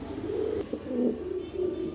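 Soft, throaty coos from Danish pigeons roll on continuously, low and close, with a steady hum of background noise.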